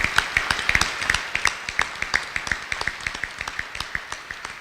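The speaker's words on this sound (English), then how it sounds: "please, everybody, give them a round of applause and thank them for their service" Applause from an audience at a Cleveland-to-Chicago Hyperloop announcement: a steady run of sharp, evenly spaced claps, fairly close and moderately loud, fading slightly toward the end.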